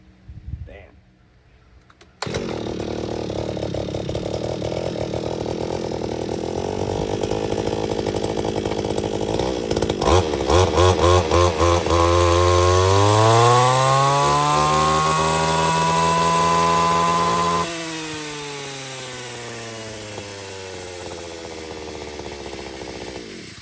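A brush cutter fitted with an ordinary circular saw blade starts up loud and close and runs steadily, its engine pitch swinging up and down under throttle while it cuts, then settling back toward idle at the end.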